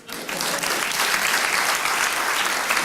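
A room full of people applauds steadily after a talk, dense clapping holding at an even loudness for the whole stretch.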